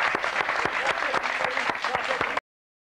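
Audience members in a TV8 studio clap along in a quick, even rhythm for a couple of seconds before the sound cuts off abruptly.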